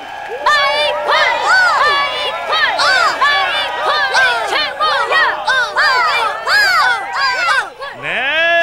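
A crowd at a children's sing-along show with Dooly characters in Ssangmun-dong cheers, whoops and chants a cheer song in rhythmic bursts, loud and continuous throughout.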